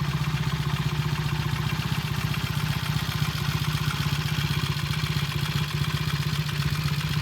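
A Triumph T100 motorcycle engine idles steadily during a test-ride rollout, a low, even throb with mechanical clatter running continuously and fairly close.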